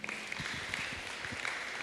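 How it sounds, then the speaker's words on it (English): Audience applause at a coaches' seminar, a brief, even wash of many hands clapping, fairly quiet and somewhat distant. "Clap it up for Joey."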